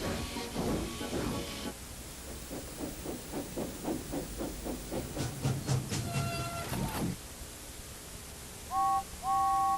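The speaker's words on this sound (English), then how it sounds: "Once the train was moving, the coaches followed smoothly." A cartoon steam train gets moving, with rhythmic chuffing puffs that speed up, hissing steam, and bright whistle toots near the end, all heard without speech.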